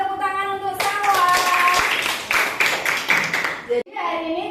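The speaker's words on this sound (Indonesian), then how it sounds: "Kasih tepuk tangan untuk Salwa." A classroom of students breaks into clapping for a classmate, a brisk burst of hand claps that starts after someone speaks and stops abruptly, followed by more talking.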